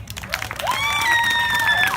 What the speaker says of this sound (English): Round of applause for Johnny, please.